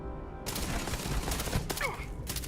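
A rapid burst of gunshots goes off in the game Starfield, loud and close, with a brief gap before a second volley.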